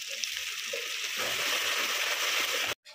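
Cashew and poppy seed paste sizzles in hot oil, a steady broadband frying hiss that swells slightly midway and holds close and loud, then cuts off abruptly near the end.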